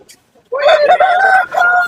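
A rooster of a fancy breed crows loudly and close by at a dog and goat market, one long sustained call after a brief quiet moment.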